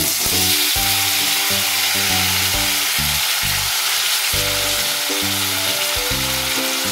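Onion, chilli and garlic fry in hot oil with a loud, dense sizzle. A repeating tonal whir cuts in and out in short bursts over it, close and steady, with no talking.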